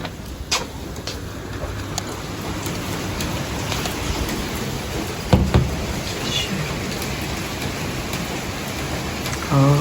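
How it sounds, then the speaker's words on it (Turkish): Steady heavy rain pours down in a constant hiss, with occasional louder drops and knocks close by. "Bakın çok yağıyor maşallah"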